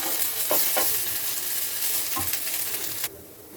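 Ginger garlic paste fries with onions in a pan for palak paneer, a continuous bright sizzle with a few stirring scrapes, cutting off abruptly near the end, no voices.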